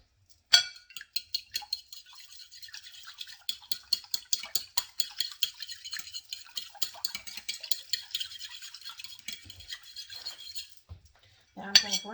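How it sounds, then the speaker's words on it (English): A whisk or fork beats an egg with milk in a bowl, making a quick, steady run of light clicks and taps for about ten seconds, ending with a brief clatter. "I'm going to take this 1 egg and I'm going to beat it well."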